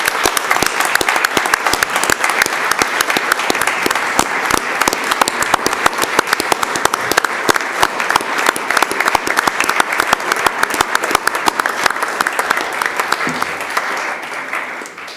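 Sustained applause fills a legislative chamber in honor of Treasurer Alter, many hands clapping in a dense, even patter that holds steady for a long stretch before thinning slightly at the end.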